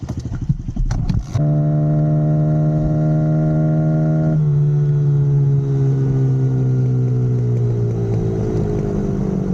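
A Kawasaki KLX 110 dirt bike revs hard from a few sharp blips into a loud, sustained single-cylinder whine, holding steady pitch then dropping slightly as it shifts and carries on accelerating close by.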